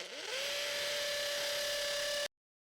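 A DEWALT DCD805 cordless hammer drill with a bigger bit fitted spins up and runs at a steady high whine for about two seconds, then cuts off abruptly, loud and close with no talking.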